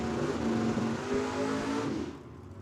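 Plymouth and Mustang drag racing at Tucson Dragway, a loud, sustained engine roar that holds steady and then drops away sharply near the end as the cars pull off into the distance.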